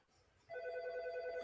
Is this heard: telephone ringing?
yes